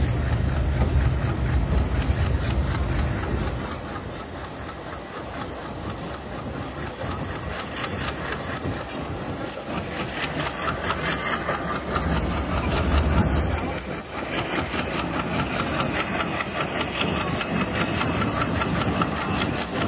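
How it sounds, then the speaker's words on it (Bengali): The Nakshi Kantha commuter train runs onward after pulling out of Padma railway station toward Khulna, with a continuous rumbling roll and grinding wheel noise heard from aboard, louder at the start and again mid-way. "খুলনা অভিমুখী নকশিকাথা কমিউটার ট্রেনটি এইমাত্র পদ্মা রেলওয়ে স্টেশন ছেড়ে দিল"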